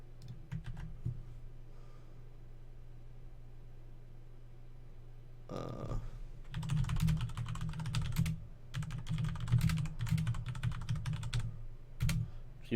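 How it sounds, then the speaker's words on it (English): Computer keyboard typing during a live stream of Pillars of Eternity: quiet stretches of scattered keystrokes, then dense rapid bursts of clacking keys at close range, alone without talk over a low steady hum. "If you hate the sound of me typing,"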